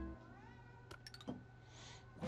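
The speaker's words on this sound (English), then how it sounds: "my cat tried to climb on top of the desk" A pet cat close to a desk microphone gives a couple of short meows, loud and near, over a steady hum of video game background sound.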